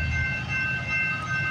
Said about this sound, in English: So we got a CP westbound train coming through.